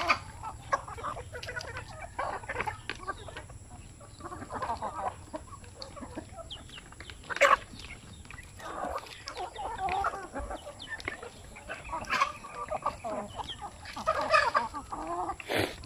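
Chickens on a backyard poultry farm cluck and chatter continuously at moderate distance, with scattered louder squawks and bursts over a low background hum.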